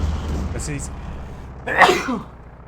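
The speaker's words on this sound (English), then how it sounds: "I've been getting a lot of sneezes in today." A single loud, close sneeze bursts out from someone commentating a Company of Heroes 2 match, preceded by softer breathy sounds and low background noise.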